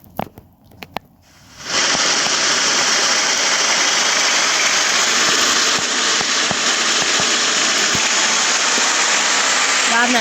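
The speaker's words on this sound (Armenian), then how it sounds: "մոտորի ձեները լսեք" A Lada Niva's engine roars loudly and steadily from close by after a few brief knocks and clicks at the start.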